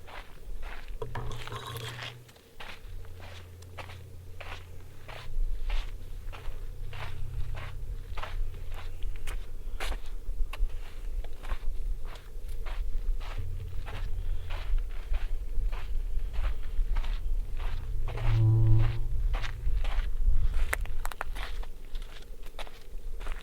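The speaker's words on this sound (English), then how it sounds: "likes the sound of my footsteps because it makes her feel like she's hiking" Boots crunch and scrape on gritty ground in a steady, evenly paced rhythm of footsteps while hiking through Cathedral Canyon, close and clear for the whole stretch, with no talking.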